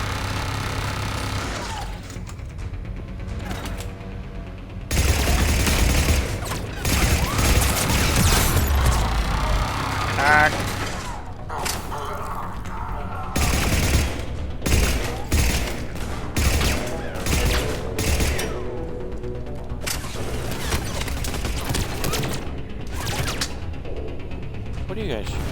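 Rapid turret gunfire in the Mass Effect 3 video game, with long bursts of fast mechanical shots and crashes over game music, loud and near, with a player talking now and then.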